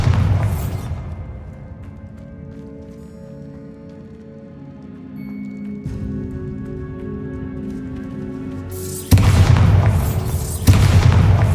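The Bombarda explosion spell in Hogwarts Legacy, cast inside a tomb, sets off two sharp, loud blasts near the end, after a long stretch of quiet, sustained musical drone.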